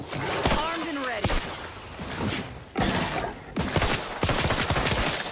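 Rapid bursts of gunfire from quick shots in the video game The Outer Worlds 2, several sharp cracks spread across a few seconds with clattering, mechanical in-game sounds in between.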